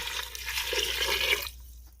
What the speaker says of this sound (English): So we're going to go ahead and put our water in.